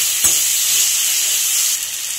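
Tomatoes with turmeric and salt sizzle loudly in a frying pan for a cucumber sabzi, a continuous bright hiss with a soft scrape of stirring near the start.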